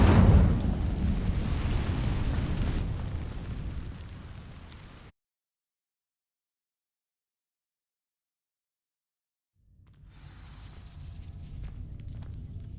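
A fiery burst from the Incendio spell setting dry vines alight in Hogwarts Legacy: a loud whooshing roar and crackle that fades out into complete silence, then a softer rumbling burn returns.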